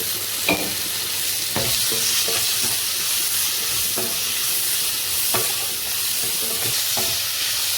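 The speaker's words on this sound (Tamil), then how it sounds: "கொஞ்சம் சிம்மில் வச்சு நல்லா வதக்கி வைக்கலாம்." Chopped onions sprinkled with powdered salt sauté in a pan over low heat, a steady loud sizzle broken by regular scraping strokes of a stirring spoon, with no voices.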